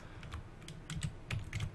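Typing on a computer keyboard while playing Dwarf Fortress, a quick uneven run of close, soft key clicks and taps in small bursts.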